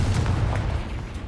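A Confringo fire spell is cast in Hogwarts Legacy, a dense, boomy blast with low rumbling bursts that runs steadily for a little over a second with no pause.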